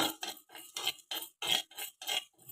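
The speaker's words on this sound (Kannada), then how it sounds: "ಹೆಸರು ಕಾಳು ಮತ್ತು ಮಸೂರ್ ದಾಲ್ ಇದಿಷ್ಟು ಚೆನ್ನಾಗಿ ಫ್ರೈ ಮಾಡ್ಕೊಳ್ತೀನಿ" Moong dal and masoor dal being dry roasted in a pan, with about nine rhythmic scraping rattles from stirring, each short and fairly quiet, separated by brief silences.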